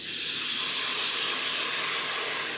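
White wine is poured into a hot pan of onions and erupts into a loud, steady, close-up hiss of sizzling steam that holds evenly throughout with no talking.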